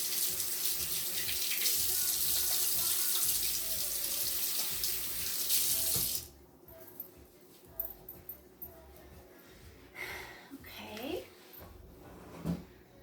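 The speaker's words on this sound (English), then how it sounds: "Wash my hands." Water runs loud and steady from a kitchen tap during hand washing for about six seconds, then shuts off, leaving quiet room sounds and a few soft handling knocks.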